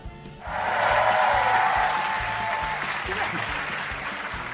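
An audience breaks into broad, sustained clapping at a political event, a loud, dense roar of many hands that swells quickly and holds steady, with a voice faintly audible underneath.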